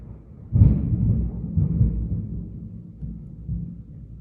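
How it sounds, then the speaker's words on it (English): Thunder from an intense storm rolls in low, muffled rumbles, swelling and fading over several seconds at a distance, with no speech. "this storm being intense right now"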